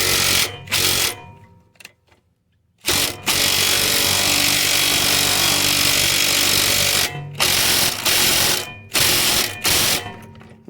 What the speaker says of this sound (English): 7mm to tighten the bolt down